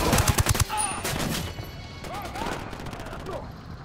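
Rapid gunfire bursts from a Ghost Recon: Wildlands firefight rattle out loud at the start, then give way to quieter game sounds while a voice talks over them.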